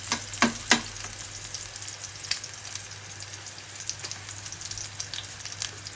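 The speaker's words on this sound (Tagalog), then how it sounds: "Pork chop, lalagyan ng sibuyas, kalamansi, toyo. Isa-gisahin lang natin yan." Pork chop with onion, calamansi and soy sauce sautéing in a pan, giving a steady close sizzle with a few sharp pops and crackles near the start.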